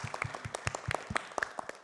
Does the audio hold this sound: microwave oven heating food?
no